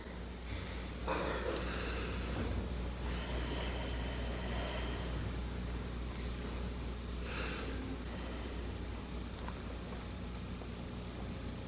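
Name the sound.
group taking a deep breath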